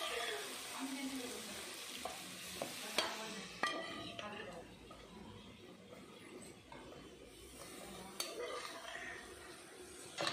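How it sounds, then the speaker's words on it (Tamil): Boiled mutton being stirred into ginger garlic paste and masala in a pan for mutton fry, with a soft steady sizzle, scraping spoon strokes and occasional clinks, while a person talks intermittently over it. "நல்லா கிளறி விட்டுக்கலாம்."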